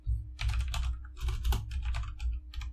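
Fast clattering keystrokes on a computer keyboard, typing a character name in Dark Souls 3, in close, loud bursts with a brief pause midway.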